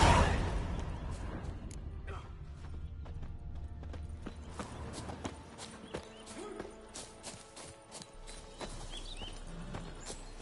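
Roach the horse's hooves clip-clopping in The Witcher 3, a steady trotting rhythm under talking voices, loud at first and then settling to a moderate level.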